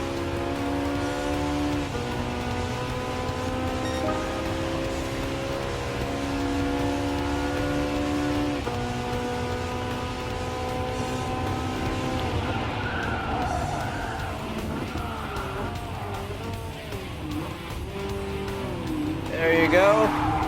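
Race car engines in Gran Turismo Sport drone with steady, sustained tones that shift pitch as the cars run past a McLaren MP4-12C and a Lamborghini Huracan, with tire noise beneath and a voice talking over them.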